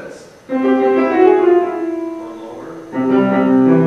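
A short musical motif spelling the name Shangrow, a sustained chord of clear harmonic tones that swells, fades, then returns with a second chord, close and fairly loud.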